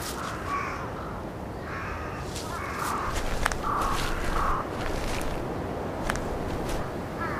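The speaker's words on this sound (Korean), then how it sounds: "까마귀들이 가장 먼저 도착한다." Crows caw in repeated bursts over a dead deer in snow, several calls spaced across the clip at moderate distance, with soft crunching footsteps or movement underneath.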